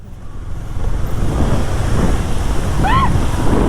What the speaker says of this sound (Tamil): Mini water falls.